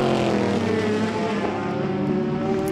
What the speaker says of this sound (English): the faster Super GT cars make their way through